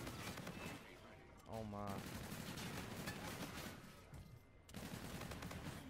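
Rapid automatic fire from an overpowered gun in a shooting video game, a dense sustained stream of shots under an excited voice that exclaims briefly.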